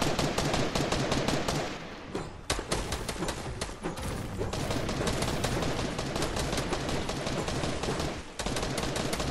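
Dense, continuous gunfire from a shooter video game, rapid bursts of shots filling nearly the whole stretch with only brief pauses, loud and close throughout.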